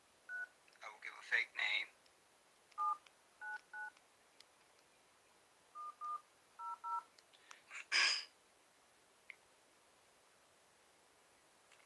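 Telephone keypad tones sound in short separate beeps while a call is placed to a congressional office in Columbia, South Carolina, with someone speaking briefly between them over a quiet line.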